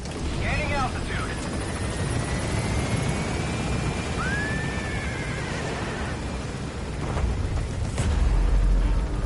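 The Pequod helicopter in Metal Gear Solid V gains altitude with a steady, loud rotor and engine roar that swells slightly near the end, while a voice speaks over the noise.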